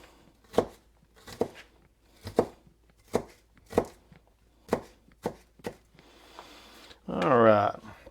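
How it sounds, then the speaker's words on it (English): A knife dices onions on a board, about ten crisp, evenly spaced chops up close, followed by a short burst of speech. "dice those onions up just about the same size as we did the potatoes"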